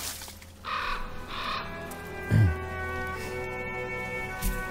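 A bird caws in the medieval video game The Pillars of the Earth, a couple of rough calls early on over a steady tonal music bed, with a low thud partway through.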